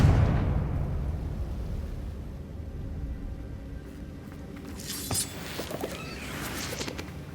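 A Confringo fire spell cast in Hogwarts Legacy bursts with a deep rumbling blast that slowly fades, followed by sharper crackling pops near the end.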